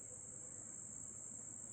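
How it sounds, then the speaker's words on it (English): Crickets in a Tennessee forest near a cabin at Harriman, a continuous high, steady trilling chorus heard faint and distant against quiet background, with no talking. "Imagine listening to that sound of those crickets"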